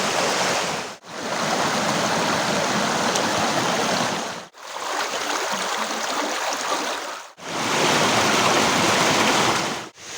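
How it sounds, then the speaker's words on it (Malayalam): Small canals flowing beside Choriyankunnu waterfalls give a steady, close rush of running water, a broad continuous gurgle broken into several long stretches by short cuts. "ഇതിൻ്റെ സമീപത്തുകൂടി ഒഴുകുന്ന ചെറിയ ചെറിയ കനാലുകളുണ്ട്"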